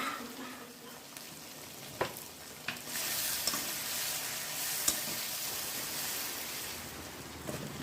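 A ground paste of ginger, cumin and dried chilli frying in oil, with a continuous moderate sizzle and several sharp stirring scrapes and clacks of a spoon against the pan.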